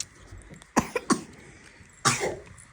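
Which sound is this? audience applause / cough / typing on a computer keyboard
cough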